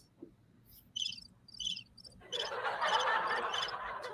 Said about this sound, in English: Sound like a cricket.